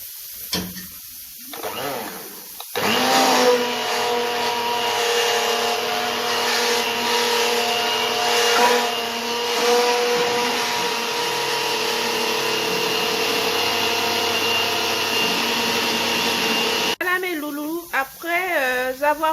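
A blender runs continuously, pureeing cooked, cooled Haitian pumpkin soup (giraumou), a steady loud whirring roar lasting about fourteen seconds, with brief rustling and handling noises before it starts and after it stops.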